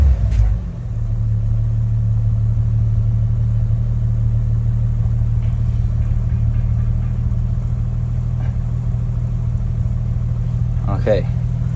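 A 1989 Toyota Supra MK3 with a 7MGTE engine runs inside a garage, giving a loud, steady, deep rumble that holds nearly level throughout, with faint voices in the background.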